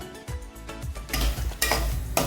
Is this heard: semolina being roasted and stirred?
yes